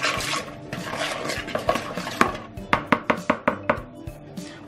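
A spoon scrapes down the sides of a mixing bowl of brownie batter. Rubbing strokes come first, then a run of quick, rhythmic taps and scrapes against the bowl, close up and fairly loud.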